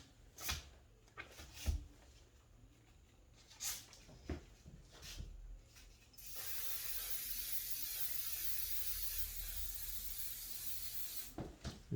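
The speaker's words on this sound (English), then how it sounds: "Quick spray." An aerosol spray can sprays fixative over a classical cast portrait drawing in one continuous hiss lasting several seconds. Scattered taps and handling noises come before it, and there are no voices.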